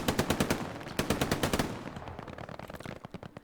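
An MG fires in Hell Let Loose in rapid, rhythmic bursts: a sharp, loud stream of shots that trails off into thinner, quieter rattles, with no voices.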